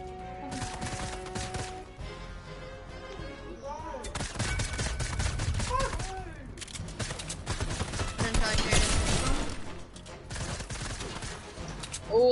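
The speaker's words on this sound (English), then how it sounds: "Cause I can hear people shooting." Bursts of gunfire and rapid automatic volleys ring out in a battle royale video game, loud and repeated across the whole stretch with short gaps between clusters.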